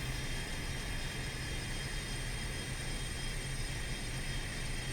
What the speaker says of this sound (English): That's engine number 2 started.